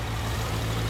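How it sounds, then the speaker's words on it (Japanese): Suzuki Inazuma 1200 (GSX1200FS) motorcycle engine idling nearby, a steady low rumble with an even, continuous drone and no voices. "エンジン音聞かせてもらえる？"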